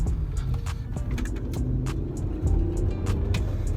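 A naturally aspirated BMW X5 E53 engine accelerating, with a steady low rumble from inside the cabin, with faint intermittent clicks above it.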